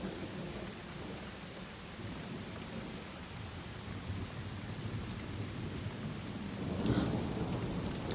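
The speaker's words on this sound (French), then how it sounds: "Les éclairs font beaucoup trop de bruit." Steady heavy rain during a lightning storm, with a low rumbling of thunder building near the end, continuous and fairly loud, no voices.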